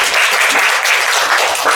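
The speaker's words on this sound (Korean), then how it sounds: "우리 최지은 학생 큰 박수 다시 부탁드리겠습니다" Loud, close applause from an audience at a Korean university students' group discussion presentation on unification, a thick, even wash of many hands clapping without pause.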